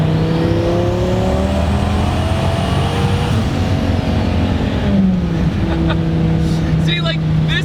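A loud twin-turbo V10 in a 2002 Dodge Viper climbs steadily in pitch under hard acceleration in third gear, dips briefly at a shift, then keeps pulling while a voice talks over it.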